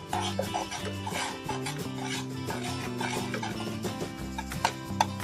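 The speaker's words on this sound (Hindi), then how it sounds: "अब इसमें हम कस्टर्ड डालेंगे और इसको मिक्स कर लेंगे।" Custard powder is stirred into boiled milk in a pan, giving a soft, continuous scraping and rubbing sound. A few light knocks come near the end, and background music plays throughout.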